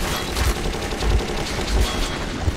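Rapid, sustained gunfire from the video game Metro 2033, a dense continuous barrage with heavy low thumps about every half second, loud and steady throughout with no talking.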